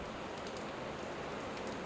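Heavy typhoon rain pours steadily outdoors, a dense, continuous hiss of water hitting surfaces that stays loud and unbroken throughout.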